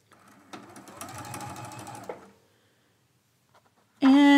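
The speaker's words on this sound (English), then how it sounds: "I'm going to bring you over to the sewing machine. We're going to be sewing our first blocks together." Sewing machine stitching quilt blocks together with a quarter-inch seam, a close whirring run of about two seconds that stops abruptly, followed by a sudden loud tone at the end.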